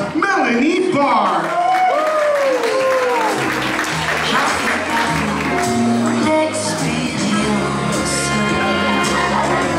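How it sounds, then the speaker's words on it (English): Audience applause and cheering at a benefit fashion show, a loud sustained wash of clapping with whoops and shouts, a voice speaking briefly over the start. "How about a big round of applause, Melanie Barr?"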